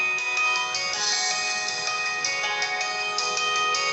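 A ringtone plays from the single bottom-firing speaker of an Infinix Hot 10 phone, a steady electronic melody at moderate volume, close and heard alone.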